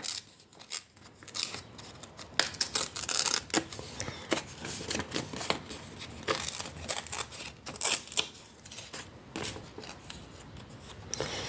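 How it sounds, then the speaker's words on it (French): Glossy magazine paper is torn and cut up for a collage, making quick crisp rips and snips with crinkling handling in between. The sounds are close and busy, with no speech. "Hop, je vais déchirer un peu."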